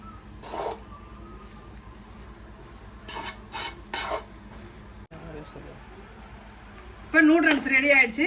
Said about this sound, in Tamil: நல்லா நூடுல்ஸை நல்லா கிண்டிக்கோங்க